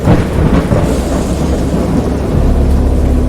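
Loud, continuous rumbling of thunder rolling through a storm, with a dense wash of rain-like noise throughout and no voices.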